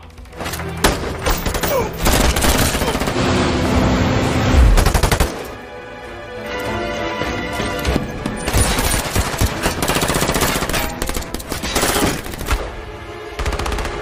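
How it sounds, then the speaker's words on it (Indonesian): Gunfire in a film shootout scene, with dense bursts of automatic fire and heavy booms over a loud soundtrack, repeating almost without pause, then a brief lull before the shooting resumes. "Lam datang menyerang Eddie, terjadilah baku tembak yang sangat mengkojorkan."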